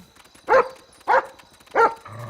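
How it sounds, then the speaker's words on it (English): A dog in the video game GTA V barks three times at an even pace, loud and close, each bark short and sharp, with a faint low engine-like hum under the last. "The stealth button makes him bark"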